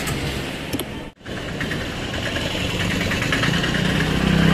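A motorcycle waiting for repair idles steadily and loudly up close with a constant broadband rumble. A brief dropout comes early on, and no one speaks.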